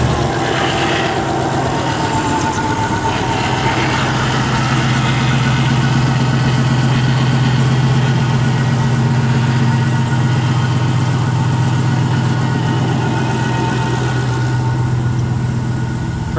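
Supercharged Hellcat V8 swapped into a Jeep Gladiator Mojave settles into a steady, loud idle, a constant deep rumble with a droning low hum that holds unchanged throughout.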